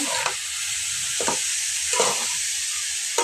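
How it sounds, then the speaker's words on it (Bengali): Mushrooms and spices stirred in a frying pan, a constant bright sizzle with a few distinct spatula scrapes spaced about a second apart, close and without talk. "এবার এগুলো ভালো করে নাড়াচাড়া করে সব কিছু একসাথে মশলাগুলো মিক্স করে নেব"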